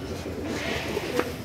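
A soft pigeon coo sounds briefly over low background noise.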